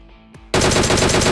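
A DP-28 fired without its bipod in PUBG bursts into sustained rapid automatic fire after a short quiet lead-in with a faint click. The shots are loud, close and continuous.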